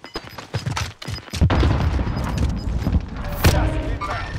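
Grenade blast and gunfire in Call of Duty Warzone: a burst of sharp shots up front, then a heavy boom and a loud sustained rumble of fire, with talk over the noise.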